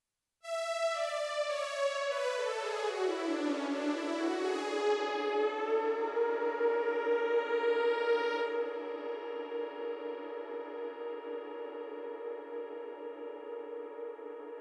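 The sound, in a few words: synthesizer preset with space reverb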